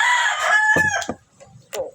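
A farmyard rooster crows loudly and close by in one long, strained call, followed after a short pause by a brief clucking call.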